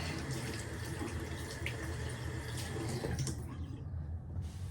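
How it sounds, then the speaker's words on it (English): Hands washed under a running bathroom tap, a steady close splashing stream that cuts off near the end. "I'm really quickly gonna wash my hands so I'm not putting the hair product on my face."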